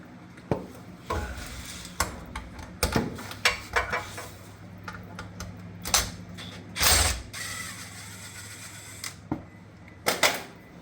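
A ratchet wrench tightens bolts on a Cuda car, its quick metallic clicks coming in short bursts of varying length, close and fairly loud, with brief pauses between strokes.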